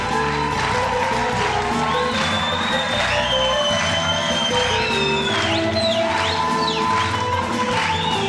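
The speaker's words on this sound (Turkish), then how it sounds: "Ayşe Hanım, kuvvetli alkışlarımızla." A studio audience applauds and cheers a female contestant on a Turkish television entertainment show, with dense, loud clapping and crowd noise filling the whole stretch.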